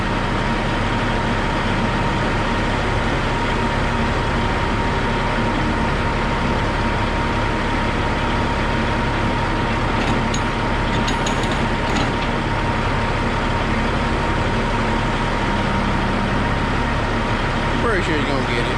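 A log truck idles continuously with a steady, fairly close heavy diesel drone while wood is loaded onto it at a rainy, muddy logging site. A few brief clanks break in midway, and people talk over the engine.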